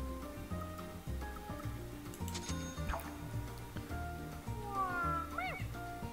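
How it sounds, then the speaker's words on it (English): A kitten meows repeatedly in the video game D4: Dark Dreams Don't Die, high rising cries over a steady rhythmic game music bed. "And the case of the annoying kitten,"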